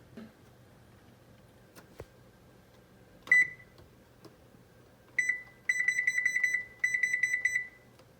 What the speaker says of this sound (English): we are going to set our oven